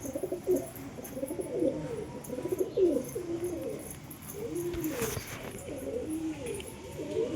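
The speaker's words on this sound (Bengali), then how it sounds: "এইখানে এই পায়রাগুলো দেখুন কুটুর কুটুর করছে খালি।" Pigeons of good breed in a pigeon house coo repeatedly, a run of low, throaty, rolling calls that overlap and pulse through the whole stretch, close by, with a brief rustle near the middle.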